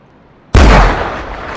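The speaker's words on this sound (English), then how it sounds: "I think I shot it straight through the lungs" A single loud rifle shot at a bison in the hunting game The Hunter, arctic setting, bursting suddenly from near silence and leaving a long booming tail that rolls on to the end, with no talk.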